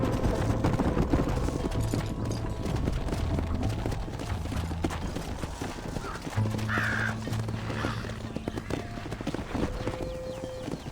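Horse hooves gallop in the video game Red Dead Redemption, a fast continuous clip-clop that runs steadily throughout, close and prominent, mixed with crow caws and background game sounds and music.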